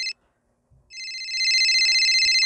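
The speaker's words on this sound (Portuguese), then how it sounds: "Ah, meu celular!" A mobile phone starts ringing after a short silence, with a repeating electronic ringtone of two bright, steady tones that stays loud and close. Faint rustling sits beneath it.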